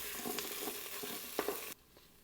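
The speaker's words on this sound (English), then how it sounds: "We're going to sauté these for a few minutes to build the flavor." Tomato paste and herbs sizzle and fry in a pot with a few stirring scrapes, a steady moderate hiss that cuts off abruptly near the end.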